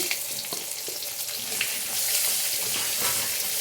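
Mutton curry ingredients frying in a pan with onions going in, a continuous loud hissing sizzle with scattered crackles and stirring sounds, growing slightly louder partway through.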